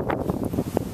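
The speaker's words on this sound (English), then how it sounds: "It's got a gust of wind." A brief gust of wind buffets the microphone outdoors during repair work on a Honda 3.5 V6 engine, a short, rough, low rumble lasting under a second.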